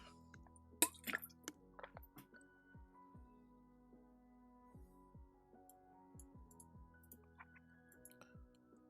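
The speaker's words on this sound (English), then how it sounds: "Water bottle's louder than I thought it was." Water sloshing and dripping inside a water bottle, a few soft quick splashes and plops close by against a quiet room, fading to faint scattered drips.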